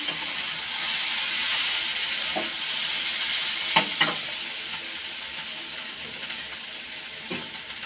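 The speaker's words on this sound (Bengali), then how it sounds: "ভাজা হয়ে গেছে, ভালো করে কষিয়ে নিয়েছি" Bitter gourd fries in hot oil with turmeric and salt, giving a steady close sizzle and hiss, broken by a few sharp spatula knocks and scrapes against the pan while it is stirred.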